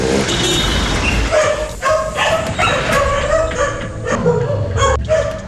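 Dogs bark and yelp repeatedly up close amid a noisy background with passing engine sounds and whimpering cries.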